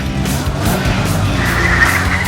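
A car revs hard and its tires squeal and skid in a sustained, loud, close burst with steady engine roar underneath.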